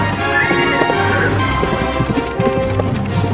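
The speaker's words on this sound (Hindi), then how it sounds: "अरे वो घोड़ा कहाँ से आ गया" A cartoon horse gallops with quick rhythmic clip-clop hoofbeats, loud and close, over a bright musical backing, and a whinny may rise briefly early on.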